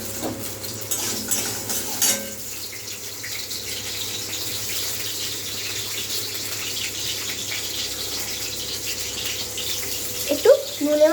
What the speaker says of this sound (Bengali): এগুলোকে ভেজে নিচ্ছি।